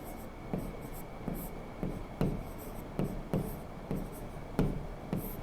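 Pen or chalk writing on a board or paper during a science lesson: a series of quiet, separate scratchy strokes about one per second over a faint room hum, with no voices.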